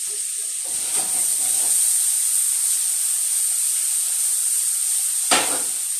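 Vegetables with cilantro boiling in a pan that isn't an iron skillet give a steady, close hiss with bubbling, plus two brief louder bursts of sizzle.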